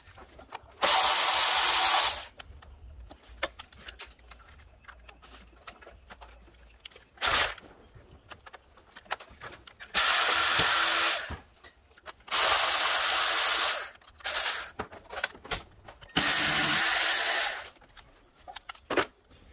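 A power tool spins out the 7mm ignition coil bolts on a 2003 Ford Thunderbird during spark plug replacement, in several loud whirring bursts separated by quieter clicks and handling noises.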